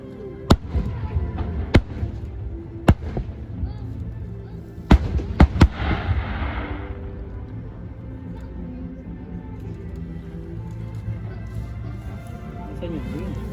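Fireworks at a Taiwan National Day show, sharp booming bursts scattered at first then clustered in a quick volley, followed by crackle and crowd murmur, with people talking throughout.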